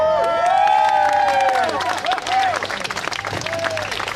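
Large outdoor crowd at a London protest rally for Bradley Manning, clapping and cheering loudly with whoops and shouts in a sustained wave that gradually thins.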